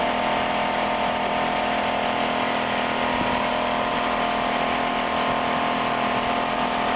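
The engine of a restored 1963 MFG runabout boat runs at a steady, smooth drone with no change in pitch. A broad wash of water and wind noise sits over it, and no one speaks.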